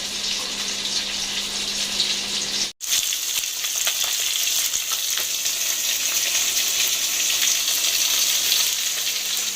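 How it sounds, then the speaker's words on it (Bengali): Potatoes fry in a hot pan for a fish curry, a loud, steady sizzle that runs almost without pause, broken by one brief dropout early on, and no voices. "আর এদিকে আলু ভাজি করছি হচ্ছে মাছের ঝোলে দেওয়ার জন্য।"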